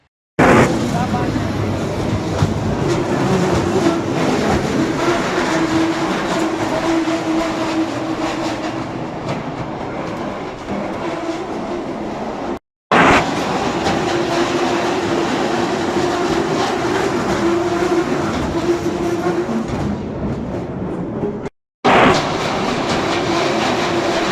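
The Shah Faisal Town Express ride train runs at a flower show, a continuous rumble and clatter of rolling wheels with a droning tone, heard up close for over twenty seconds with two brief cuts.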